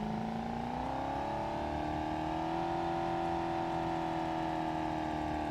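The engine of a crashed car in BeamNG.drive, with failing rod bearings, revs in a continuous droning whine that climbs in pitch and holds steady, alone and fairly quiet.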